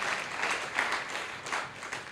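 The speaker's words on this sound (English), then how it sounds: "I just want us to give another round of applause" An audience at a school debate applauding, a steady wash of many hands clapping that swells slightly in waves, moderately distant and soft.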